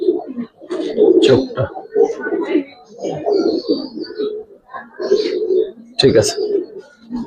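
Giribaz pigeons, including a purple-gear pigeon, coo in a loft while people talk continuously over the low, throaty calls, which stay half-buried under the voices.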